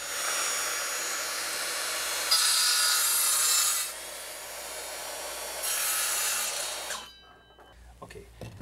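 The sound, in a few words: sawing wooden trim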